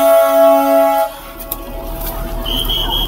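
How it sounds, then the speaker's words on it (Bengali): As the Darjeeling toy train departs, its horn gives one loud, sustained blast lasting about a second, followed by quieter outdoor bustle and a thin high tone near the end. "ট্রেন ছেড়ে দিচ্ছে।"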